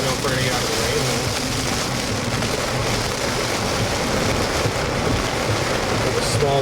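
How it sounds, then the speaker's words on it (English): Heavy storm rain pours in a constant, loud broadband roar, with people talking over it while following the road in a storm chase. "I don't know if we're gonna get out of the rain though."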